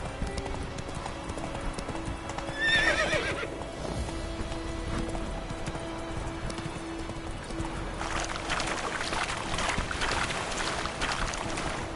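Roach the horse in a PS4 video game whinnies once, clearly, then hooves clip-clop steadily at a trot over a steady ambient background, with no talking.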